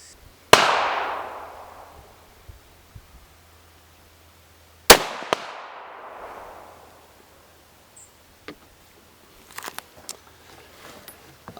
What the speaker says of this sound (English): I'm going to put a couple of rounds down range.